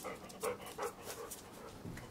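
A dog pants in short, rhythmic breaths with soft whimpering whines mixed in, close by and fairly quiet, with no voices.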